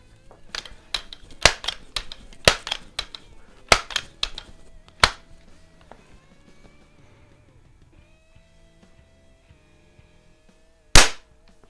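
Crosman air rifle firing wad cutter pellets outdoors, a series of sharp close snapping shots in quick succession, then a quiet pause and one more single crack near the end.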